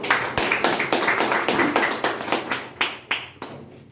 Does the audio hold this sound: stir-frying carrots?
no